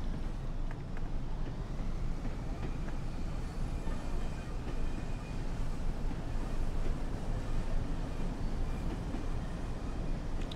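Class 101 diesel multiple unit in a train simulator game, a continuous loud rumbling engine and rail roar throughout with steady low drone and faint clatter, no clear separate gear-change event standing out.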